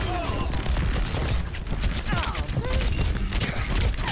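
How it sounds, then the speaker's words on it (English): Lucio's Sonic Amplifier firing in Overwatch, a dense continuous barrage of loud punchy blasts amid busy game effects. "This is the Sonic Amplifier gun."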